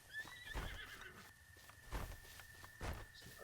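Horse whinnying in the video game Breath of the Wild, with muffled hoof clip-clop and steps; a few bursts near 0.5, 2 and 2.9 seconds over a steady high tone, moderately close.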